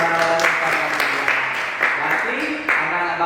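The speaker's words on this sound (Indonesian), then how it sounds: "Tepuk tangan untuk Indah." Applause fills a classroom during an art micro-teaching lesson, a steady wash of many hands clapping together at close range for about three seconds with no clear pauses.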